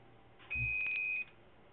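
An alarm inside emergency lighting units switching to battery backup gives a single short electronic beep, a steady tone lasting under a second, faint and alone in a quiet room.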